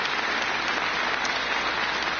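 Steady crowd applause fills a campaign rally held at a business enterprise center in Madison County, Indiana, a dense, even wash of many hands clapping at constant moderate loudness with no voices standing out.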